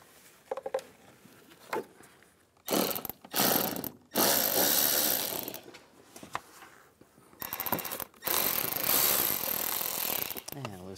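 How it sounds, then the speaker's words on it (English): Ratchet wrench with an 8 mm socket loosening worm clamps on the engine intake of a Cadillac SRX, with a few isolated clicks and then longer runs of rapid ratcheting clatter, close by and alone. "We're going to loosen up the worm clamps. Use an 8 millimeter socket."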